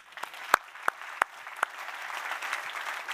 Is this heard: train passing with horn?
no